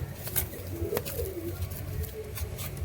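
Lakka fantail pigeons coo softly in low, repeated throaty murmurs against a steady background hum, with a few sharp clicks or flutters scattered through.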